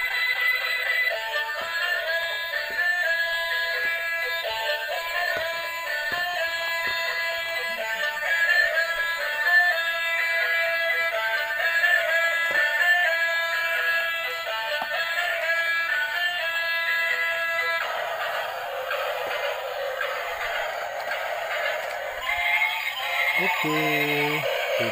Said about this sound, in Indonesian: Kalau yang ini bunyi kereta teman-teman